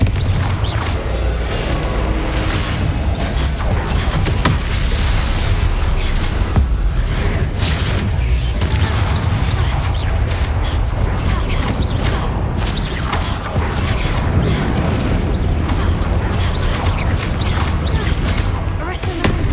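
Repeated blasting-spell explosions from the Hogwarts Legacy video game during combat, loud booms and crashes packed densely over a continuous game soundtrack, with dull thuds and impacts throughout.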